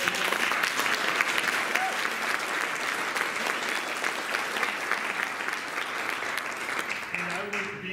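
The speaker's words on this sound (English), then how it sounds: "So can we give him a round of applause?" Sustained audience applause fills a conference hall at a real estate summit, dense and steady throughout with a faint voice near the end.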